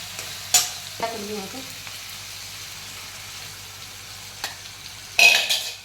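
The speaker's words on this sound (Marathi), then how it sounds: "आपला मसाला मस्त चांगला फ्राय झाला" Masala for misal sizzles in a pan while being stirred, with a soft steady frying hiss broken by a few scraping stirs and clatters, and a louder burst of sizzle near the end.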